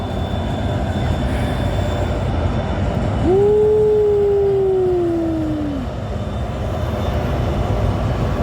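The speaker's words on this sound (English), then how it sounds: "That's a freight train." Freight train pulled by three engines rolling past under a steady broad rumble, with a loud air horn blast sounding for a few seconds midway, close by.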